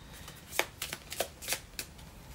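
A deck of playing cards is shuffled in several quick, separate riffles, each a short crisp burst. The bursts come close together and sound near and clear, with no talking.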